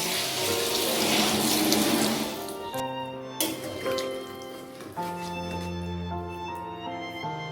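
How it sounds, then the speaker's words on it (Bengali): Water is poured into a pan of spiced pointed gourd and potatoes for a Bengali potol chingri curry. A splashing rush fades after a few seconds into lighter trickling and bubbling, with no talk. "পটল আর আলু ভালোভাবে মশলার সাথে মিশিয়ে নেওয়ার পর দিয়ে দিচ্ছি জল।"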